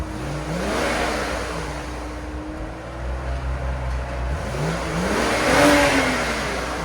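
A 2012 BMW 535i with a 3.0L inline-six and straight pipes revs up twice, each rise swelling then easing off, over a constant fan-like whir louder than the engine.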